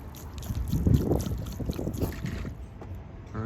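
Water splashes and trickles from a watering can onto the freshly tamped soil of a repotted Norway maple outdoors, a close, steady wash of pouring with uneven gurgling bursts, loudest early on and then easing.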